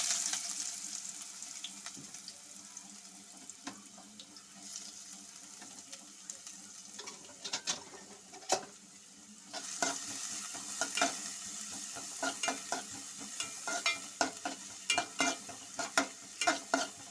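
Sliced onions dropped into a hot pan of popped mustard seeds, sizzling steadily while being stirred, with sharp scraping clatters of the spoon that grow more frequent toward the end, no voices.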